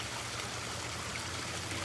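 A backyard garden waterfall built beside a lilac tree flows continuously, giving a steady close splashing rush with no talk over it.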